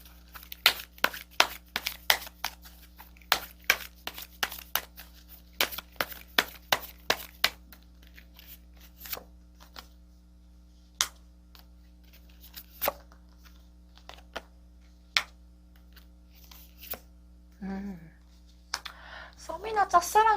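Tarot cards are shuffled and drawn in a quiet room: crisp, close snaps and flicks come in quick bursts early on, then thin out into sparse single taps, with a brief rustle near the end.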